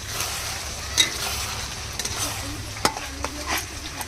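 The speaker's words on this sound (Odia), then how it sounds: "ପିଆଜ ବଟା ପଡ଼ିଗଲା।" Ground onion paste is dropped into hot oil for a chicken dish and fries with a hissing sizzle, broken by a few sharp clatters of a utensil against the pan.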